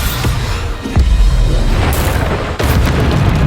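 Booming spell blasts from Hogwarts Legacy on PC, fired in a magical trial battle, with a heavy low thud about one second in and another burst near the end over steady combat din.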